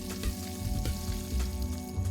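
Eggs sizzle and crackle in a frying pan in the video game Arctic Eggs, a steady close frying hiss with small popping bursts and no voices.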